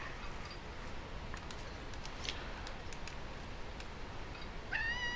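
A pet cat meows once, close and fairly clear, near the end, after faint ticking and clicking against a quiet room hiss; no one talks.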